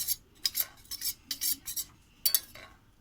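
Soaked flattened rice being mixed with water in a bowl, a rapid series of close, light scraping and clinking strokes in irregular bursts.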